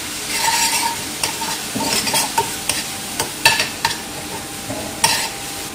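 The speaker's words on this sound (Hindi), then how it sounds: "अब मैं इसके अंदर अदरक लहसुन का ये पेस्ट ऐड करूंगी।" Onions fried golden brown with ginger garlic paste, a steady sizzle broken by repeated stirring scrapes and clinks of a utensil against the pan, close and clear with no talking.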